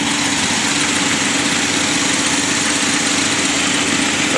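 A car with a 2.4 liter engine idles in a back lot, a steady, loud, close rumble that holds even without revving.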